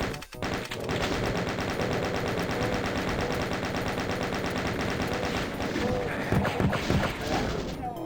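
Rapid, sustained automatic gunfire from a chaingunner in the video game Doom (Crispy Doom source port), a dense continuous rattle of shots running nearly the whole stretch with loud crashes and bursts layered in toward the end.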